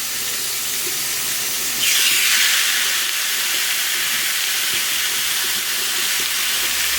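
Steaks laid on a hot grill pan hiss and sizzle, a broad steady frying hiss that swells suddenly as the meat hits the pan and then holds loud and even, with no talking.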